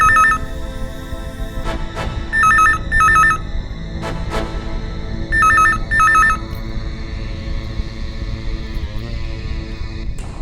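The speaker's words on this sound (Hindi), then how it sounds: "आशा, अब अगर फोन आए तो तुम उठाना।" A telephone rings indoors in short double bursts that repeat a few times, separated by pauses, over a low background hum.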